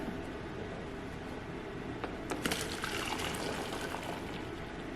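Cooked berries and liquid pour into a colander, a soft steady wet rushing with a few brief splashes and drips partway through, fairly quiet and close, with no voices.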